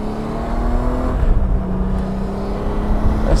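A 2019 Honda Goldwing Tour motorcycle, manual version, idles loudly and steadily up close. A low engine drone holds throughout, with a slight rev in the middle and no one speaking.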